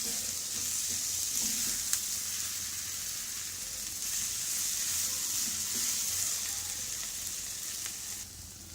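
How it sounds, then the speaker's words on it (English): Mashed potatoes stirred and fried in a pan for vermicelli potato balls, a close, continuous hissing sizzle with soft scraping from the spoon running steadily throughout. "Now we can add mashed potatoes and stir well."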